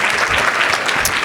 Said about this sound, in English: Give them a round of applause for being a sponsor.